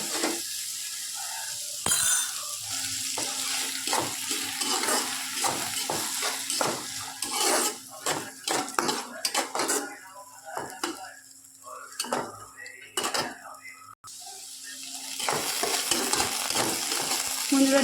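Dal frying in a pan with repeated spoon-scraping stirs over a steady sizzle, close and moderately loud, with occasional metallic clinks against the pan and no talking.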